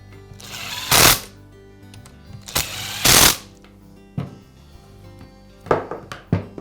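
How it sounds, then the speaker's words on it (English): A power screwdriver drives screws into a DeWalt reciprocating saw's housing in several short, loud, close whirring bursts, with quieter clicks and handling noise between them. "And I'll secure the housing with the screws."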